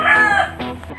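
A rooster crows loudly and close by, one full cock-a-doodle-doo with a clucking tail, heard alone on a rainy morning.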